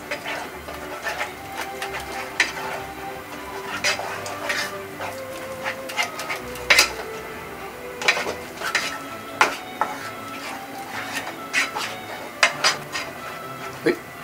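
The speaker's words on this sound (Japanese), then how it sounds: "すぐに固まってくるので素早く混ぜます" A sweet-and-sour sauce of sugar, vinegar, soy sauce and ketchup, thickening in a pan over heat, is stirred quickly with a steady run of scraping and clicking strokes and a soft background sizzle.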